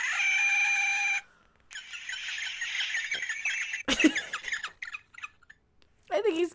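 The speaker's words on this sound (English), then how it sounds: "Why does a porg sound like a rusty ball bearing?" A Star Wars porg creature squawks and clucks like a chicken in a few loud, raspy bursts separated by short pauses, with some gaps and shorter chirps between them.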